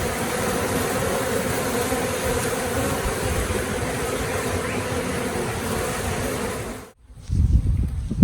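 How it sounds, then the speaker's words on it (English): Honeybees hum in a dense, steady drone around the outside of a hive during a spring inspection. The buzzing is close and continuous for about seven seconds, then drops away into low rumbling handling noise. "there is a lot of bees, especially on the outside of the hive"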